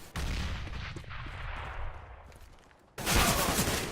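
Gunfire in a tactical shooter video game, with a burst of shots at the start that decays, a quieter stretch, then another loud burst of shots near the end.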